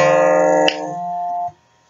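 A single string plucked on a stringed instrument gives a bright, sustained tone, then a second pluck lands and rings before it is damped and cut off.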